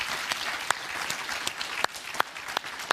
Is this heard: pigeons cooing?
no